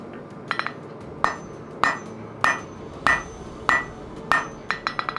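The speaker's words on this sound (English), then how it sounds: "I'm going back to my hammer" Hammer forging steel for a Final Fantasy X Warblade, a sequence of about seven sharp, ringing metallic blows at a steady rhythm, close and loud, ending with a quick flurry of lighter taps.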